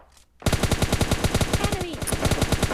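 Automatic weapon fire in PUBG Mobile Lite: after a brief quiet start, a loud, rapid, evenly spaced burst of shots runs continuously to the end, close and dominant.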